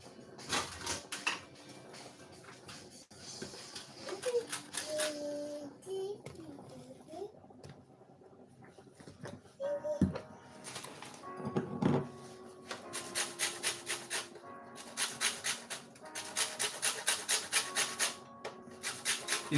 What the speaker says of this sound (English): I'm going to grate my lemon zest straight into this lovely